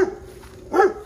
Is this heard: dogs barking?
yes